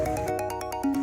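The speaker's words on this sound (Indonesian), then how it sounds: "kok ada bunyi telepon dekat sini?" A phone ringtone chimes nearby in a steady repeating electronic pattern of short tonal pulses, loud and continuous, with no voices over it.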